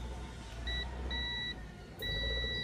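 A multimeter's continuity buzzer sounds in short, clear beeps, one brief then two longer tones, while testing a shorted diode on a Samsung LED TV board, close and distinct over faint background hum.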